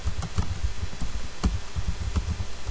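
Rapid, uneven clicks of a computer keyboard being typed on, close and distinct, with short pauses between bursts of keystrokes.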